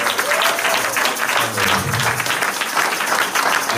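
A church congregation claps and cheers for the Lord in a steady, dense burst of applause filling the room, loud and sustained.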